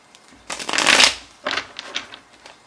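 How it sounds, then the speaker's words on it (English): Two quick bursts of tarot cards being riffled and shuffled up close, the first longer and louder, followed by lighter card rustling. "I shuffle all my cards before I turn the camera on."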